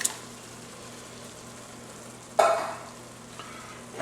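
Diced vegetables for a sausage jambalaya cook in a pot, giving a low, steady sizzle with a brief louder clatter of stirring midway and another near the end.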